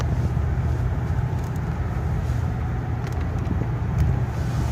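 A 1978 Lincoln Mark V engine under way while shifting up through the gears, a steady loud low rumble with road noise and no talking.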